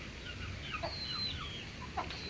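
Young Bangkok chickens of a Burmese line cluck and peep in a small backyard pen, a few soft chirps over steady low background noise.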